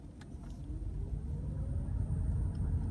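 A Ford Fusion Energi plug-in hybrid running on electric power with a window rolled down gives a steady, low road and tyre rumble that holds evenly throughout, with no voices.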